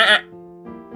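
A person imitates a goat's bleat with one short wavering bleat, then a faint held tone and a weaker second bleat, close and quiet.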